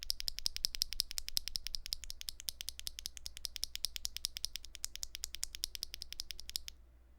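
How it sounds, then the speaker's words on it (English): Rapid, steady typing up close on a Wingtree 277 mechanical keyboard with linear switches, a dense run of light clacky keystrokes that stops abruptly near the end, with no voices. "let's hear it just on its own."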